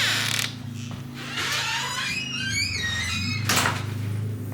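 A door on a reefer trailer converted into a tiny house swings open, giving a few scraping, creaking mechanical sounds over a low steady hum, fairly close.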